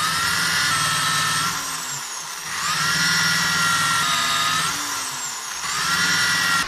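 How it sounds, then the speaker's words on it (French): Power drill boring a through-hole in ash wood bench legs, a loud, close whine that runs steadily, dips and slows twice under load, then picks back up. "je perce les pieds, c'est un trou traversant"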